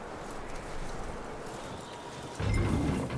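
Horse hooves clip-clop in Red Dead Redemption 2, a steady walking rhythm, near and moderately loud, growing heavier toward the end.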